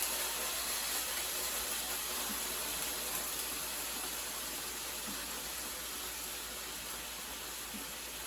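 Kangaroo sushi pieces sizzling in a frying pan, two at a time, give a steady, even hiss that holds for the whole stretch with no voices over it.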